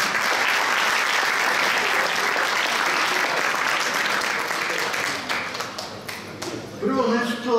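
Sustained, dense applause from an audience honouring young athletes at a Mladenovac sports awards event, loud and steady for several seconds before thinning out as a voice begins speaking near the end.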